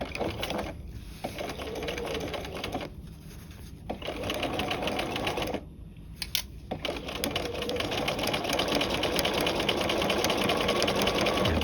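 A sewing machine stitches a seam on a V yoke, running in continuous whirring bursts broken by a few short pauses, close and steady, with no talking.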